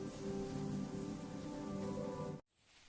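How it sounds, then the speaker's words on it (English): Rain sound effect for a children's lesson, a steady dense patter of falling rain with an even hiss that runs constantly and moderately loud, then cuts off abruptly to near silence. "I am rain. R for rain. I fall from the clouds and help plants grow."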